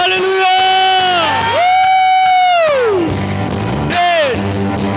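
Church congregation shouts hallelujah together, a loud, sustained group cry rising and falling in a few long waves, close and full, with excited voices overlapping.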